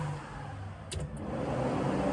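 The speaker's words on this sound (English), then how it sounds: "Intercooler fan." A car's intercooler fan whirs steadily, a constant broadband hum with a faint engine rumble underneath and a couple of brief high clicks.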